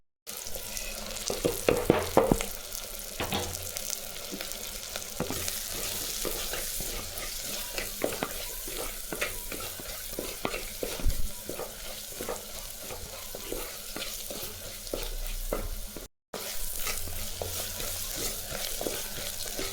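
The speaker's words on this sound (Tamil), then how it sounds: "நம்ம இந்த வெங்காயம் வதங்கும் போது இந்த மிளகாய் பொடி உப்பு மஞ்சள் தூள் போட்டுக்கலாம்" Onions sautéing in a pan with chili powder, salt and turmeric for a drumstick-leaf sambar, giving a continuous sizzle with frequent stirring clatter and scrapes, close and fairly even for the whole stretch.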